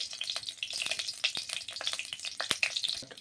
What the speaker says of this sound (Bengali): শুকনো লঙ্কাটা ভেজে নেব